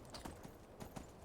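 A horse's hooves clip-clop in a quick, steady rhythm in the Skyrim video game, faint and alone with no talk over them.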